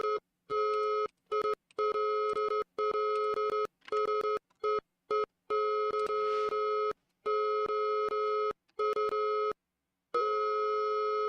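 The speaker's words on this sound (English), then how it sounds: "Morse code?" Steady electronic beeping tone switching on and off in irregular long and short bursts, like Morse code. It is loud and close, with no voices.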